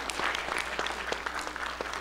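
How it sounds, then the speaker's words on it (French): An audience claps briefly in honor of a journalist at an awards gathering, a steady patter of many hands at moderate volume, without voices over it. "On peut l'applaudir."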